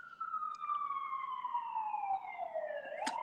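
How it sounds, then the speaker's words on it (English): An emergency vehicle siren wails in the distance, a single long falling sweep that begins to rise again at the end, faint and set behind quiet room sound. "excuse the sirens in the background."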